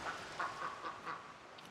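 A duck in the video game Lost Ember gives a rapid run of soft, nasal quacks, four or five short calls in quick succession, faint and heard alone.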